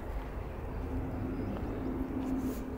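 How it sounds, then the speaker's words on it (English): Large airplane passing overhead, heard as a steady low drone with a faint humming tone, moderately loud and continuous throughout, with no voices. "Huge plane up in the sky."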